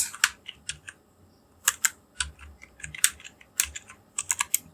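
Computer keyboard keys clatter in quick irregular bursts while entering a voucher in Tally accounting software, close and crisp with short pauses between flurries of keystrokes and no talking.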